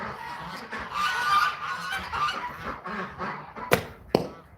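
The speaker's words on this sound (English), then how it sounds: "Man, my geese are pissed." Agitated geese honk loudly and repeatedly outdoors in South Dakota, overlapping calls forming a noisy chorus, with two sharp, sudden bursts near the end.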